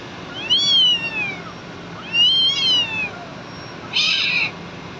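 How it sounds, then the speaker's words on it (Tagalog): Cats meowing near the microphone, with a small cat being picked on. Three drawn-out, high meows come about a second and a half apart, the last one sharper and more strained. "Pero siyang inaaway na maliit na pusa."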